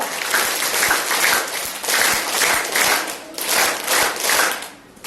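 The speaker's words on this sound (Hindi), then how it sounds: "ताली बजाएं इनके लिए" Audience applause for a 10th-grade student at a girls' school assembly, a dense crackle of many hands clapping in bursts that swell and ease several times across the span, ending on a fading wave.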